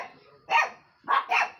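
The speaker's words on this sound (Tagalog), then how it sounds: "Nataulan nila yung aso ni Jemre" A dog gives three sharp barks, one alone and then a quick pair, close and clear in a quiet home setting with no one speaking.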